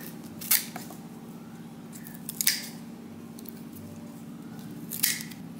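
Pruning shears snip through a dahlia tuber in three sharp, crisp cuts, close and spaced a couple of seconds apart, over a low steady background hum.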